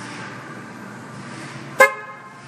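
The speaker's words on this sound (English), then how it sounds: "And you'll hear the horn. Make sure the horn sounds normal." A car horn gives one short, loud chirp as the doors lock with the key fob, standing out sharply against quiet background hiss.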